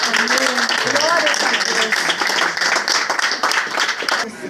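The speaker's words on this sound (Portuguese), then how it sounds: "Vamos nos assentar aplaudindo o Senhor Jesus." A church congregation applauds while sitting down, with dense, steady clapping for the whole stretch and voices mixed into the crowd noise.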